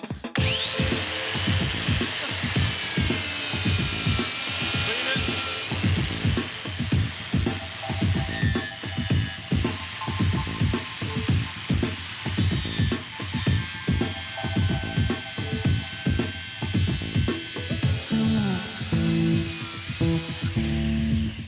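Stainless steel car trim from a 1967 GTO pressed against a spinning polishing wheel, a loud steady motor whine with rhythmic grinding pulses throughout, close and continuous, no talking.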